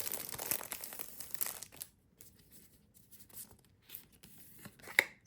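Paper cutouts being slid into envelopes for a savings challenge: soft rustling and crinkling paper handling, brief scrapes and taps, fairly quiet and close, with a sharp tap near the end.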